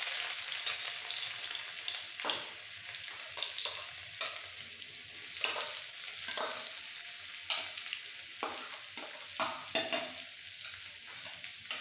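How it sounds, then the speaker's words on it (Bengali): Chopped garlic fries in hot refined oil in a kadai with a soft, steady crackling sizzle. Scattered clicks and scrapes from stirring cut through it, fairly quiet and close. "তেলটা গরম হয়ে যাওয়ার পর সবার প্রথমে দিয়ে দিচ্ছি রসুন কুচি"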